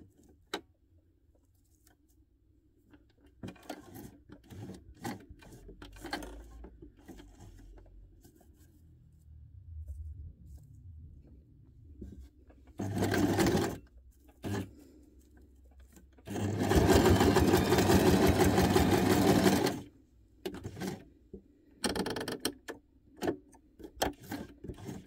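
A sewing machine stitches teeny tiny paper scraps, first with scattered taps and handling noises, then in a short run and a longer steady burst of rapid, close mechanical whirring.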